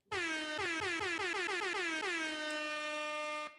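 A loud air horn blares in a rapid stuttering series of blasts, then holds one long sustained honk before cutting off.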